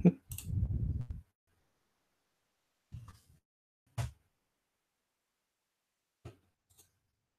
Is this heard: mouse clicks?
yes